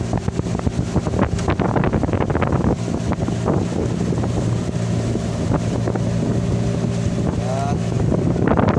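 Motorboat engine driving a fishing boat out toward the open sea, a steady loud drone with heavy wind buffeting the microphone and water rushing alongside throughout.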